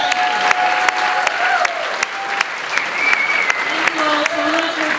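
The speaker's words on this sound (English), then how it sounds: "Give yourselves a round of applause." After a Miami Beach mayoral debate, the audience claps loudly and steadily for several seconds. Cheers, whistles and scattered voices rise over the applause.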